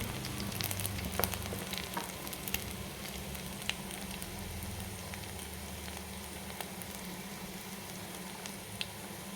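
Garlic and ginger fry in hot oil at the start of a fish curry, giving a low, even sizzle with faint crackles, fairly quiet and steady with no voices.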